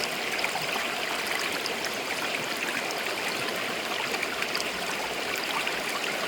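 Water rushes steadily through a mini Geo sluice while prospecting glacial till outdoors, a continuous close splashing flow with even, busy turbulence and no talking.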